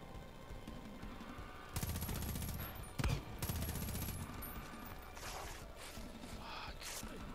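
Sniper and automatic gunfire in the video game Far Cry 5, with loud bursts of shots and a sharp crack in the middle over a steady backdrop of game noise.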